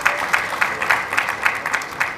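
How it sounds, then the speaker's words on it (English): An audience at a gathering of UPDF and NRA officers claps, a dense run of hand claps with a regular rhythm that pulses steadily for a couple of seconds. "and they are clapping"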